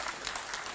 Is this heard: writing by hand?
no